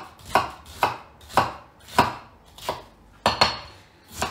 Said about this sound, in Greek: Λοιπόν, το ψιλοκόβουμε.